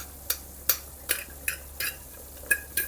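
A spoon stirs frozen green peas into a simmering Anglo-Indian meatball stew in a pot, giving about eight evenly spaced, close scraping strokes over a low bubbling background.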